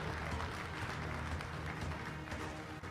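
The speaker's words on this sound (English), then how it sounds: "A big round of applause for our GPAC All-Conference Honorable Mentions." Audience applause at a college football awards ceremony honoring all-conference players, a steady dense wash of clapping that holds for the whole stretch without voices.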